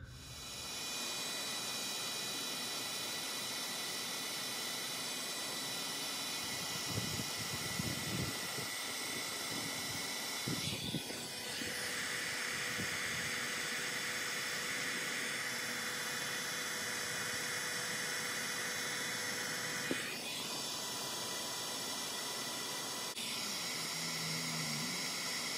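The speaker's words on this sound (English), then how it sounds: "I'm gonna go ahead and use a heat gun on each one of these" A heat gun shrinks heat-shrink tubing on blower motor wires of a Dodge Stratus or Chrysler Sebring, with a steady loud blowing hiss that holds for the whole stretch and shifts pitch slightly now and then.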